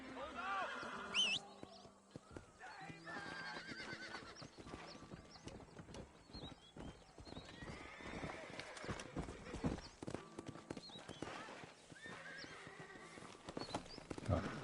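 A horse neighs and its hooves clip-clop in Red Dead Redemption, with whinnies, clattering steps and saddle rattles over a quiet ambient background while someone talks throughout.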